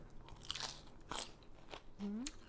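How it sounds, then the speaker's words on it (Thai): Crisp fresh raw vegetables eaten alongside a fermented pork salad crunch in a few quick, close bites, sharp snaps separated by brief pauses. "ผักสดกรอบดีขนาดจ้ะพี่น้องจ้ะ"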